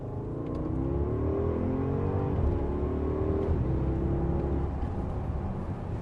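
A Porsche Cayenne Turbo with a 4-litre twin-turbo V8 accelerating hard in second gear, a steady loud engine roar rising in pitch with a brief dip near the middle, heard from inside the car without talk.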